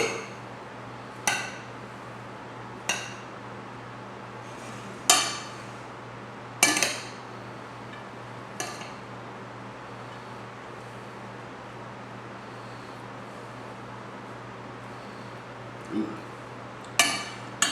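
Eggs and cheese are stirred into macaroni salad in a bowl: single, spaced clinks of a utensil against the bowl every couple of seconds over a faint steady hum.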